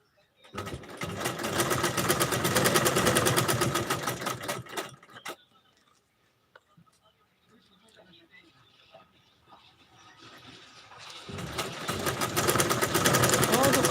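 Sewing machine running in a tailor shop, loud and steady in two long bursts separated by a quieter pause with faint background sounds and a voice.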